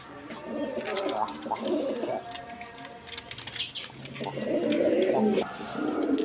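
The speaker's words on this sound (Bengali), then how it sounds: "এক পেয়ার সিলভার কালার রেসার কবুতর দেখেন" A pair of silver-coloured racer pigeons coos softly close by, low murmuring calls rising and falling, with a mechanical whirring and faint background voices.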